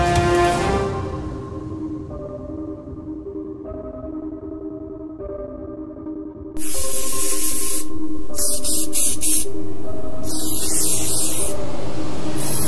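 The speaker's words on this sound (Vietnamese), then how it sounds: "Vào lấy một bình xịt cho tôi. Bình xịt con trùng đó." An insecticide spray can sprays a long, loud, continuous hiss for about six seconds, starting abruptly after a quieter stretch of sustained tones.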